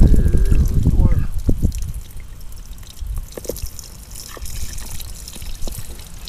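Water from a solar-powered pump's hose trickles and drips in a thin, uneven stream after a short burst of louder splashing, fairly close and otherwise quiet.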